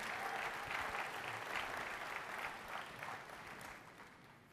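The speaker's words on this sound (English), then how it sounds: "Please give him a round of applause." An audience at a business IT and security tech conference keynote gives steady, sustained applause that sounds distant and soft and tapers slightly toward the end.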